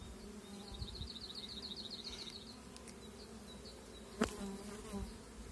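Honeybees buzz at an opened beehive during colony splitting, a soft, continuous hum close by with a faint click or knock near the end and no speech.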